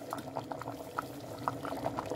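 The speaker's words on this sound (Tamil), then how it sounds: "இது இன்னும் நல்லாவே கொதிக்கட்டும்" Gentle bubbling of rice boiling in water in a pot on the stove for tomato pulav, small pops and blips coming close together at a steady simmer.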